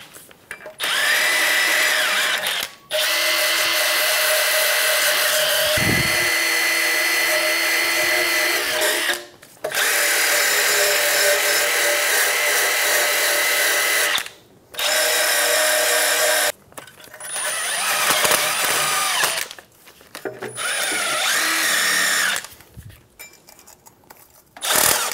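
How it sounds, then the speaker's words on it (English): A wire brush scrubbing the brake shoe contact points on a 2007-2017 Ford Expedition during a parking brake shoe job. Loud, close, harsh bursts of several seconds each are broken by short pauses, with a faint clink near the end. "Using a wire brush, we're going to clean all of the contact points for the shoe."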